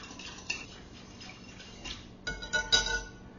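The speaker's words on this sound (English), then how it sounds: "Get that all whisked in." A whisk clinks and scrapes against a bowl as butter and salt are mixed for pretzel dough, with light irregular taps that get louder and busier toward the end and no talking.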